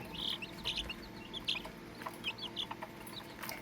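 Tiny Serama bantam chick, about a month old, giving repeated high, thin peeps and chirps in quick irregular bursts, close by and fairly quiet.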